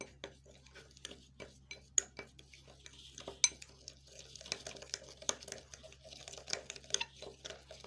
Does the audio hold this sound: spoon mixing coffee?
yes